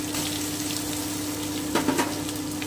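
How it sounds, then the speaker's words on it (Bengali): Coconut paste and peanut paste frying in a pan with a steady sizzle, joined near the end by a few louder scraping stirs. "আমি এবারে একটু খুব ভালো করে একটু নেড়ে একটু ভেজে নেব।"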